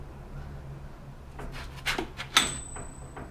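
A breaker bar cracks loose tight 19mm ball joint bolts on a 2005-2015 Toyota Tacoma: a few sharp creaking, grinding bursts close up, ending in a louder snap as the bolt gives, over a low background hum.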